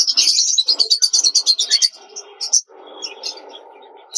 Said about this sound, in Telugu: రెగ్యులర్ గా వచ్చే బర్డ్స్ ఉన్నాయి, లవ్ బర్డ్స్ ఉన్నాయి.